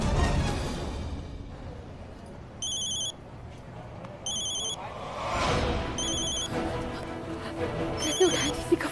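A telephone rings in repeated short electronic bursts, spaced a second or so apart, over background chatter and room noise.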